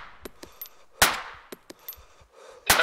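Gunfire in the military shooter ArmA 2 during a team-versus-team match, a few sharp isolated shots cracking out at irregular intervals, the loudest two near and punchy, with quieter distant pops and clanks between them.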